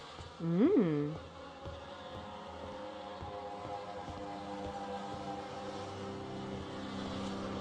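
Insects buzz in The Fidelio Incident amid rotting surroundings, a steady droning hum that holds for several seconds after a brief louder rising-and-falling whine near the start.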